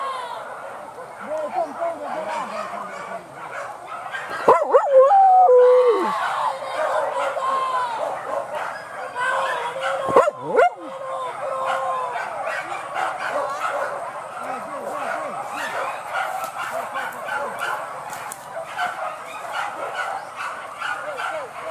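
Hunting dogs bark and yip repeatedly while chasing a wild boar near rice fields, with overlapping calls near and far, under excited talk and shouting from the hunters.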